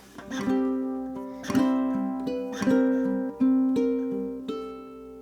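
A ukulele plays the closing chords of a song, five strummed chords ringing out one after another at a relaxed, even pace.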